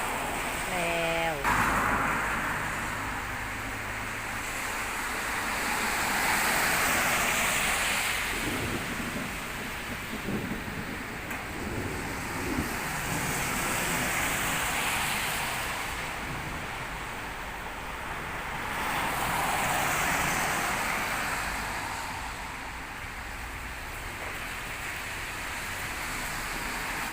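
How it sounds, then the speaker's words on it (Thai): Heavy rain from a summer storm in Sakon Nakhon falls steadily after a burst of hail, a broad continuous wash with gusty swells, close to the microphone and carrying on for the whole stretch with no talk. "หลังจากเห็บตกฝนก็ตกแล้วค่ะพี่น้องเย็นเย็นเย็นเย็นเย็นเย็นเสียงฝน"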